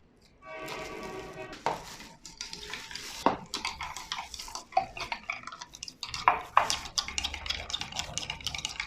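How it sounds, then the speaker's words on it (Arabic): Melting coconut oil is stirred in a pot for homemade soap, with a spoon scraping and clinking against the pan in quick, uneven close strokes over a faint sizzle. "هقلب زيت جوز الهند."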